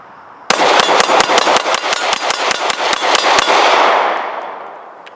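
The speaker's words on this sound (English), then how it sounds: "that was 15 rounds in a pretty fast cadence" Fifteen rapid pistol shots ring out from an HK VP9, sharp loud cracks in a fast, even cadence over about three seconds, followed by a fading echo.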